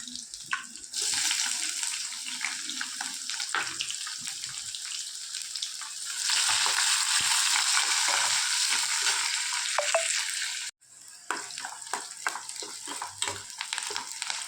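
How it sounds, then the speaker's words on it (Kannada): Onions are dropped into hot oil with curry leaves for tomato bath and start frying with a crackling sizzle that swells loud partway through, broken by a brief pause and the clatter of stirring. "ಕರಿಬೇವಿದೆ, ಇದಕ್ಕೆ ಈಗ ಈರುಳ್ಳಿಯನ್ನು ಹಾಕಿ"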